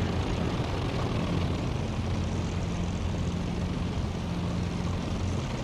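Spitfire Mark 14 piston engine droning in a VR flight combat game, a steady, loud propeller-engine roar with low harmonic hum holding constant throughout, with no voices.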